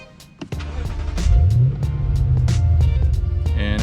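A Lexus RC or IS started by push button: a click, then the engine cranks and catches with a rising whir before settling into a steady, close idle, with a few sharp clicks over it.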